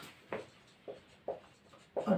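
Chalk or marker writing on a board during a Hindi vector lesson, heard as four short scratchy strokes spaced about a second apart, the last one longer and louder, with no talk.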